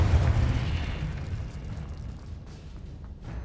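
A Confringo spell blast in Hogwarts Legacy: a loud, deep booming explosion that hits at once and rumbles away over about three seconds, with a slight secondary thump near the end.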